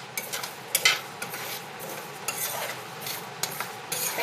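Dry rice grains scraped and stirred while dry-roasting in a pan, a steady gritty rasping with occasional louder clinks of the utensil, close and continuous with no voices.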